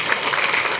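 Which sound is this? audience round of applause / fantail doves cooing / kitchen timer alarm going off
audience round of applause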